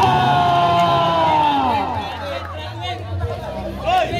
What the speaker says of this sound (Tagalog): Grabe napakaingay na ang ating mga crowd.